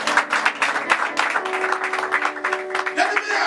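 A church congregation claps and cheers for Jesus, a rapid, continuous patter of many hands close by, with voices calling out and a sustained tone running underneath.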